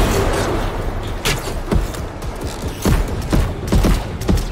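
Video-game gunfire in Fortnite's Avengers Endgame mode, with loud rapid bursts of shots and booms crackling in quick irregular volleys over a dense background.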